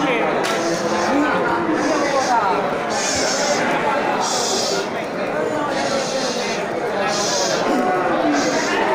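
Billy goats of the kacang breed bleat at a goat auction, their calls mixed into steady crowd chatter and people talking throughout.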